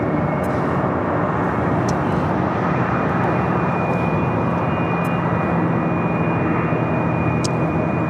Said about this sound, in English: United A321 Neo taking off.